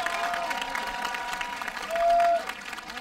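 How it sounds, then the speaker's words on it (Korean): An audience at a ceremony marking the return of Buddhist relics to Hoeamsa temple claps steadily and evenly, a moderate crowd applause with no voices over it. "여사님께 큰 박수 부탁드리겠습니다"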